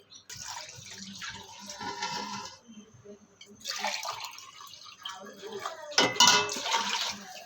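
Water splashes and trickles into a pot of mint and coriander biryani in several bursts, close by, with some quiet clatter between pours.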